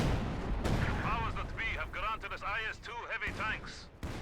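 An artillery barrage in a strategy video game pounds away in low, rumbling bursts, with an excited voice talking over it nearly the whole time.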